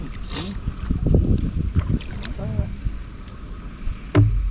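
A boat engine runs on the water during a tilapia fishing outing, a low steady rumble with wind noise underneath people talking close by.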